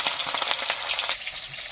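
Fish frying in hot oil, a steady close sizzle with crackling pops, fairly quiet and without talk.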